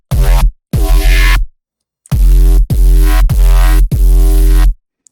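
Loud, gritty bursts of heavily processed FM synth bass in a gnarly tone, five distorted notes separated by short silences.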